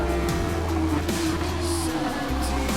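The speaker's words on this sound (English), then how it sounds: "the horde of cars passes him and he's down to 6th" Several race cars in Gran Turismo Sport's Super Formula round at Suzuka sweep past in a loud engine drone with a brief tire squeal, engines rising and falling as the pack goes by.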